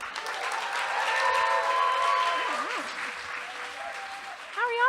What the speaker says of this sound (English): Please give her a warm round of applause to welcome her up to the stage